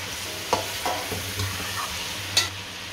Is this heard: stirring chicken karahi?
yes